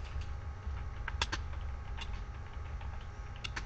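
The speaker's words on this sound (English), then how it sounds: "I'm going to type in some stuff." Light tapping on a computer keyboard while writing HTML, soft scattered keystrokes in short irregular bursts, quiet and close against a faint background hum.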